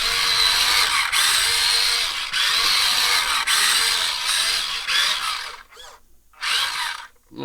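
A Huina 1536 8x4 radio-controlled dump truck's electric motor whines loudly and steadily at full throttle for several seconds, then cuts out briefly, revs again in a short burst and drops off near the end.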